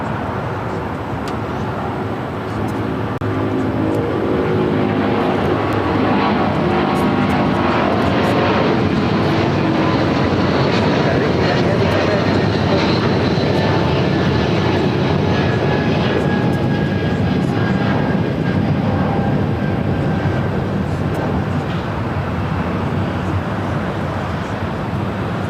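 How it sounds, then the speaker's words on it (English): A United Airlines Boeing 777 takes off at LAX, its jet engines building into a loud, sustained roar that swells and holds with a rising whine. "United 777 now taking off."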